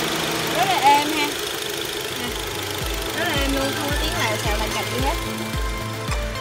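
A 2014 Honda CR-V engine idles smoothly at close range, a steady low drone with a faint rhythmic pulse running beneath, while a person talks over it throughout.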